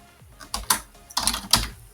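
Bursts of keyboard typing, a few quick key presses clustered in two short flurries, close and clear with no talking.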